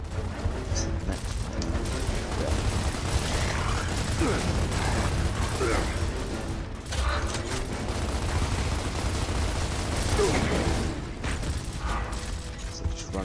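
Sustained gunfire in Gears of War Ultimate, dense bursts of automatic shots and mechanical clatter running nearly continuously, with a voice talking over the top.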